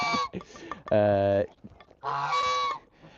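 A massive goose honks loudly close by, with two long, harsh blaring calls separated by a short pause and some softer clucking and rustling around them.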